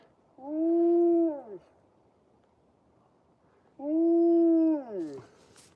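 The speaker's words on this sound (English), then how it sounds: "is a wolf long distance call. So she hears the other animals howling in the habitat" A wolf gives two long, steady howls, each rising and falling over about a second, close and loud against a quiet outdoor background while out on a walk with a Malamute.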